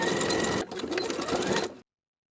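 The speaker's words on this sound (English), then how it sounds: "Sew a zigzag stitch to secure." A sewing machine running a zigzag stitch to secure overlapped elastic for a waistband, a close, fast whirring buzz that pauses briefly and resumes before stopping abruptly.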